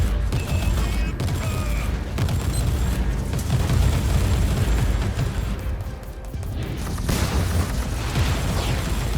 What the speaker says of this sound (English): Love the stun grenade.